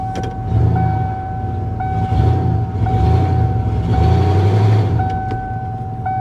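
A Ford F-150 pickup that was stolen and had not been running backs up in reverse. A loud, steady engine rumble and rolling noise run under a constant high warning chime, with no talking.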